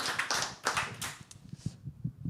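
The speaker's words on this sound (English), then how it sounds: "I would like to get one more round of applause for Adisa Musa." Small audience applause, a brief patter of clapping hands that tapers off within a couple of seconds into a few scattered claps, fairly faint.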